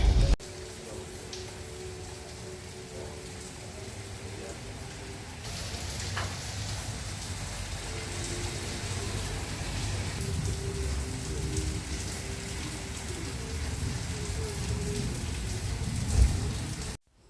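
Steady rain falling outdoors at a home, a constant hiss of drops on surfaces with a faint rumble in the background, lasting throughout and ending abruptly.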